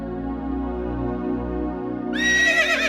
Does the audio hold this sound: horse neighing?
yes